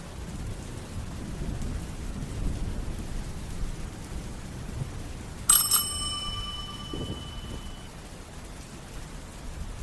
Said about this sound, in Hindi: घंटी का आवाज़।